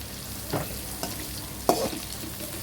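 Cabbage and onion frying on high flame in a pan for homemade vegetable noodles, a low steady sizzle with a few soft stirring scrapes, close and alone without talk.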